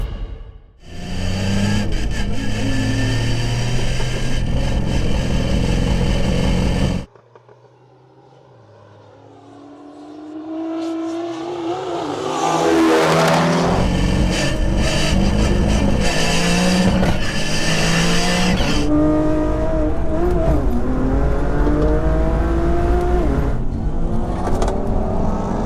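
Tuned hot hatches, including an Audi RS3, launch in a drag race: a loud, steady engine drone cuts out, then engines rev and climb through rising gear pulls, roaring close and sustained to the end.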